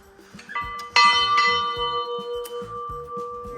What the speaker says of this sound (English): Amalia, we're ringing the bell for you.